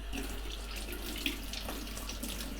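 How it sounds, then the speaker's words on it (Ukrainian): Steady running cold tap water splashing into a sink while silver coins are rinsed, a continuous hiss at moderate volume with no voices. "миємо під проточною холодною водою"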